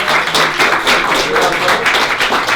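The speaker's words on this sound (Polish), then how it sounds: "Brawa dla Fangora." Applause from an audience at a Polish award presentation, honouring a recipient named Fagbal; dense, steady clapping fills the whole stretch without a break, loud and close, with no talk over it.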